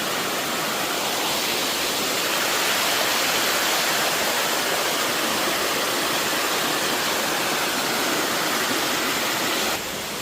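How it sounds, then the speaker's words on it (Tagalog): A mountain creek running strong and swollen after a typhoon, a loud, steady broadband rush of water close by with no pauses and no voices. "Ayan, ang sapa dito sa amin guys. Ayan, ang lakas ng tubig ano."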